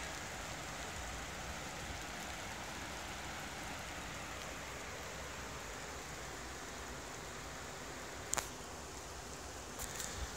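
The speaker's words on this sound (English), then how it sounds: "There's the rain." Steady, soft mountain rain hiss in the High Atlas fills the background, heard from under a large rock, with a couple of sharp taps near the end.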